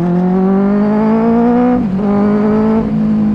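A loud, deep exhaust note from a Benelli 600i motorcycle with a dual exhaust holds a steady rev, dips sharply for a moment, then climbs back, throaty and close with a rich rumbling tone.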